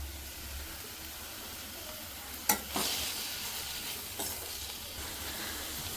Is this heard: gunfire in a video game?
no